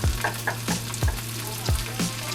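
Onion and ground meat fry in a pan with a steady, close sizzle, while a utensil stirs and scrapes in regular knocks roughly every half second.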